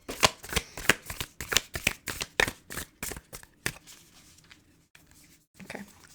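A tarot deck is shuffled by hand, a rapid run of crisp riffling snaps and card flutters close up that gradually thins out into quieter taps and a final soft shuffle.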